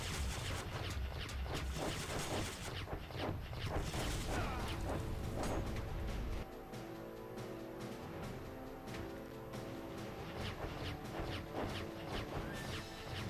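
Tank battle in the mobile game Hills of Steel: dense, continuous bursts of gunfire, crashes and mechanical clatter, loud and busy throughout, easing slightly into rumbling machinery midway.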